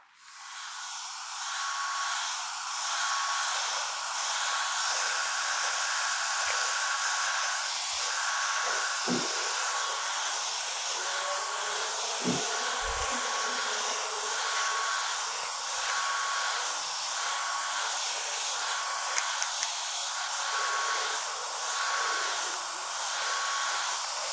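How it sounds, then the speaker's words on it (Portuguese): A vacuum cleaner runs steadily over a stage costume, a loud continuous whine and hiss lasting throughout, with occasional faint knocks beneath. "E aqui a gente vai ligar o aspirador e passar na peça toda, tá?"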